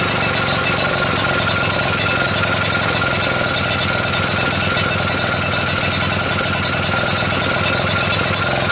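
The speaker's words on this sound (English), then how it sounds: "I could just listen to a 2-stroke tick over all day long." An Atco mower's two-stroke engine ticks over at idle, loud and close with a steady, even rattling rhythm throughout and no talk.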